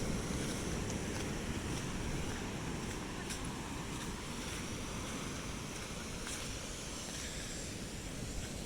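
Surf washing steadily onto Karon Beach in Phuket, Thailand, a broad continuous roar with wind buffeting the microphone throughout, no voices.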